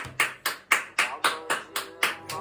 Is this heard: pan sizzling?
no